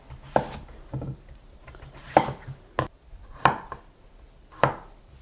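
A knife slicing radish thinly on a cutting board: about six crisp, separate chops with short pauses between them, close and fairly loud, no talking.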